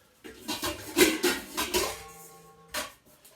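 Kitchen bowls being taken out and set down, a quick cluster of clinks and knocks followed by a lone ringing tap, close and fairly quiet.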